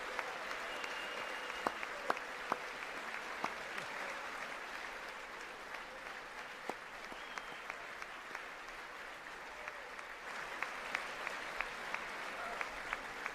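Sustained applause fills a large chamber during the 2020 State of the Union address, a steady dense roar of clapping hands with occasional sharper claps standing out, continuous from start to finish.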